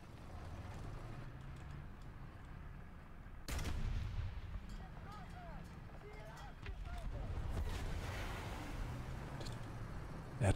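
Tank cannon fire in War Thunder realistic battles, a sharp loud blast at about three and a half seconds over steady engine rumble and battle noise, with a later burst near the end.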